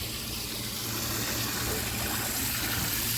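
Water gushing steadily from a garden hose into a 70-gallon tub outdoors, a constant, loud rushing and splashing that continues without pause.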